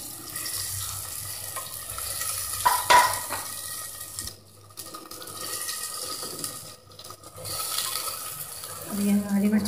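Tomatoes for a tomato chutney fry in a pan, with soft scraping stirs and a faint, uneven sizzle, moderately quiet, with brief lulls.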